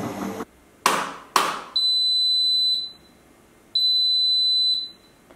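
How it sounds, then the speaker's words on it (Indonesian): An Electrolux front-load washing machine sounds its end-of-cycle alarm: a few sharp clicks, then two long, steady electronic beeps with a pause between them, close and loud. "kita dikasih seperti alarm yang bunyinya seperti ini"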